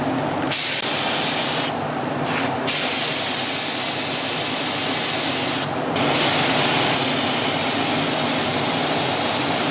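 A spray gun sprays gel coat thinned with acetone for a fibreglass dash, a loud continuous hissing jet that cuts off briefly several times between bursts, with no voices.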